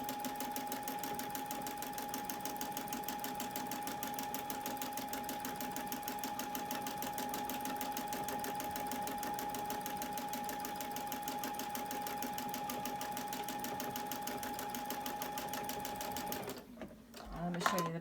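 A sewing machine stitches along the edge of a fabric bowl cozy, a steady, fast, even mechanical whir that runs without a break for a long stretch and stops abruptly near the end.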